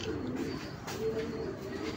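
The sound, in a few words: pigeon cooing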